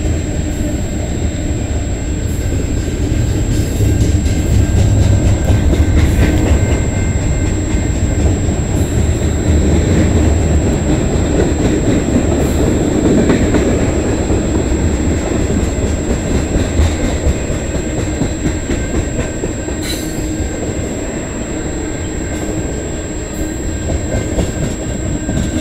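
A short CN freight train rumbles steadily past on the Dundas Subdivision in London, Ontario, close and loud throughout, with continuous wheel and railcar noise and occasional squeal.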